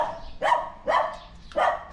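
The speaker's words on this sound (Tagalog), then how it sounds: "Kaso yung aso stop ang tahol, hindi tumitigil." A dog at a family house in Isabela barks three times in a slow, even rhythm, each bark clear and fairly close, with quiet pauses between and no talking.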